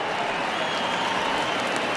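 A baseball stadium crowd of about 27,000 applauds and cheers as fans rise to their feet, a dense, sustained wash of clapping at steady volume.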